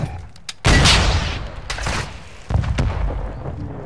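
Gunfire in the video game Call of Duty: Modern Warfare II: a few sharp, booming shots crack out in quick bursts, loud and close, with short decaying tails between them.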